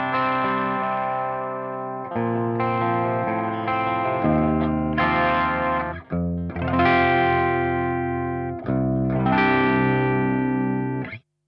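Electric guitar played clean through a Valeton VX Kraken high-gain amp set at gain 1, heard alone with sustained chords struck in several phrases and brief gaps between them.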